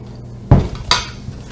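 Raw vegan pumpkin cookie dough being scooped onto a tray, with a dull thump of a utensil against the tray followed by a brighter scrape, two quick close clinks and no talking.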